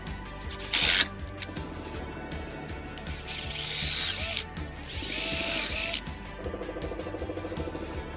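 A power drill with a Forstner bit bores into whiskey barrel wood, whining in two bursts of about a second each, with short mechanical clatter and a sharp crack between them, close and loud.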